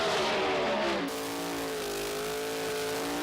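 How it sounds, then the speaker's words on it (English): A Ford Sierra Cosworth drag car fitted with a 440 Chrysler engine does a burnout at Santa Pod, giving a loud, steady high-revving engine roar with screeching tyres that holds for the whole clip, no voices. "Look at the strength of this car in the burnout."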